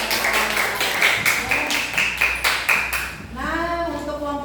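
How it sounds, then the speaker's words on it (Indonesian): A classroom group applauds group 2, with a steady run of rhythmic clapping, several claps per second, close and fairly loud, then a voice speaks at the end. "Tepuk tangan untuk kelompok 2 yang sudah mengerjakan."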